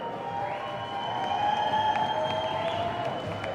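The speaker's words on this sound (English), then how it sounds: "Let's put our hands together for the Source Brothers, Mark and Rich Moore." A live crowd at a BMX finals event applauds for the Source Brothers, a steady, moderately distant wash of clapping and cheering under a tonal hum.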